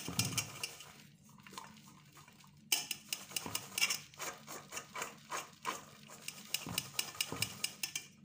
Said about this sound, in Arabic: لازم انخل الدقيق اللي هو فيه كله